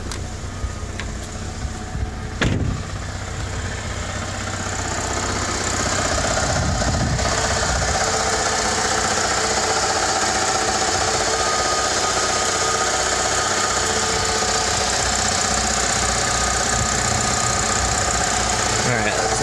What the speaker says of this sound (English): when I let go of the clutch, you hear a banging